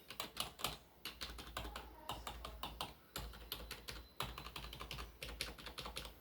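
Rapid typing on a lubricated IBM KB8923 keyboard, keys clacking in quick bursts with a soft, muted thud; close and steady with brief pauses, no voices.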